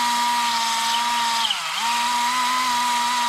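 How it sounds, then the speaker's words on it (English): A power drill with rolled-up sandpaper fitted to it spins at a steady, loud whine for about three seconds, working on a brake or suspension part for an MKIV Supra. The pitch dips briefly midway as the paper bites, then recovers and cuts off abruptly. "you roll it up, and you could just attach it to the drill like I did here and sand away"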